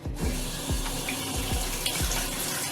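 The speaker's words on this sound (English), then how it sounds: "I'm just gonna use hot, warm tap water." Warm water runs steadily from a household tap into a sink during wig dyeing prep, a loud continuous rushing splash with no talking.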